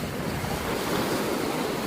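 Waves from the Sea of Azov wash onto the shore at Golubitskaya under steady wind buffeting the microphone, a continuous close, loud surf roar with no voices.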